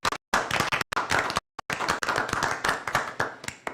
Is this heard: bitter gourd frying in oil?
no